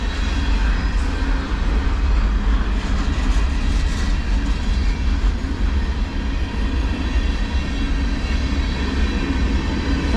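A CSX manifest freight train rolls slowly past, a steady, heavy rumble of wheels and cars with a continuous, unbroken drone, close and constant.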